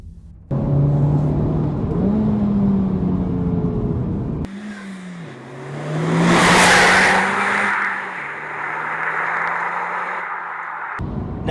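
An FK8 Honda Civic Type R with a manual gearbox driven on the road, a steady engine drone that shifts pitch through gear changes and swells as it revs, heard from close by.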